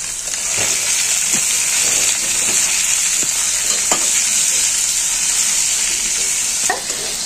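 Chopped onion with a pinch of salt sizzles steadily in a hot pan for egg curry, a loud continuous frying hiss with occasional stirring clicks and scrapes.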